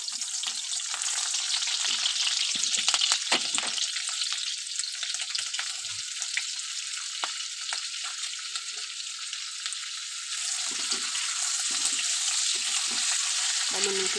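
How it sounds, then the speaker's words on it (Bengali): Garlic and green chilli fry in hot oil after eggplant has been lifted out, giving a steady, loud sizzle throughout with occasional stirring scrapes and soft clatter, and no one talking. "এখন আমি রসুন আর কাঁচা লঙ্কা দিয়ে দেবো তেলের উপরে"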